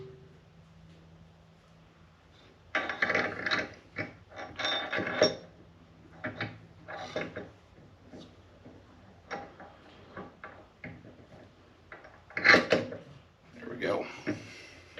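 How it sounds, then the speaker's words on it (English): Metallic clanks, taps and ratcheting knocks from a fly cutter being fitted onto a Precision Matthews milling machine, coming in irregular bursts over a low hum, fairly close. "Let's get the fly cutter installed."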